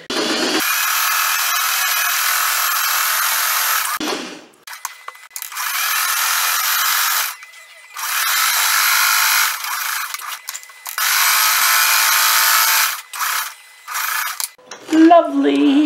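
A sewing machine stitches down a seam on a crazy quilt tote bag, running in several steady bursts of a few seconds each with short pauses between, close and fairly loud, with no talking.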